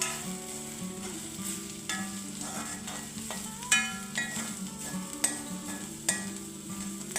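A spoon stirs prawn curry gravy in a pan, producing soft scraping and clinking against the metal over a low sizzle, with a few sharper knocks of the utensil against the pan's side.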